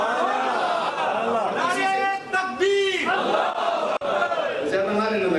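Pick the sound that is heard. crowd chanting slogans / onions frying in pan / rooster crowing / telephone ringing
crowd chanting slogans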